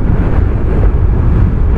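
Steady, loud wind buffeting the microphone while riding a Benelli Panarea 125 motorcycle on a warm afternoon, a continuous low rumbling roar with no pauses or voices.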